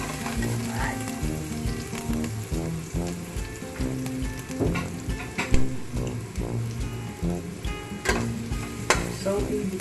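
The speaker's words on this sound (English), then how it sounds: "then ginger. So mix together to cook them brown" Ginger fries in hot oil and is stirred for pork adobo, producing a steady close sizzle with repeated scraping and clinking of a utensil against the pan throughout, and no clear talking.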